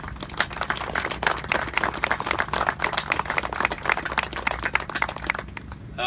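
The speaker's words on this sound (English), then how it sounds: "give them all a round of applause" Audience applause at a hurricane awareness tour event in Baton Rouge, many individual claps forming a lively, sustained, fairly close round lasting about six seconds without talk.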